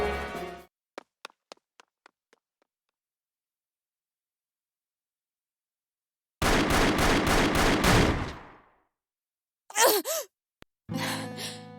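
In a cutscene from the video game Labyrinth of Galleria: The Moon Society, a loud, rapid burst of gunfire fires about six shots in quick succession, followed by sharp whooshing effects and further blasts after a stretch of near silence.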